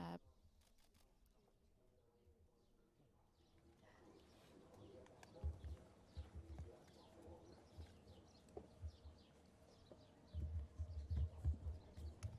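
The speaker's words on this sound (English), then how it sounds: "also being accompanied by the tweeting of birds" Faint birds chirp and coo outdoors during the Pope's visit to Malta, scattered soft calls over a low crowd murmur and occasional thumps.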